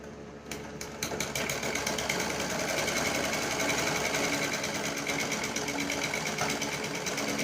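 A sewing machine stitches a necklace neckline, starting after a brief pause and then running in a fast, steady mechanical chatter close by for the rest of the stretch, with no talking.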